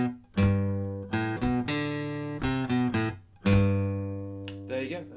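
Guitar picking the intro riff of a song, short melodic phrases with sharp plucked attacks and ringing notes, close and clear with no talking.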